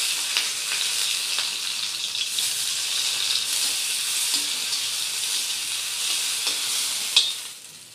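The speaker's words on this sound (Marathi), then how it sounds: "याच्यात आपण टोमॅटो थोडंसं तेल टाकून टोमॅटो फ्राय करून घेऊया." Tomatoes frying in a little oil in a pan while a chicken gravy masala is being made, giving a steady close sizzle with faint scraping and stirring clicks throughout and no talking.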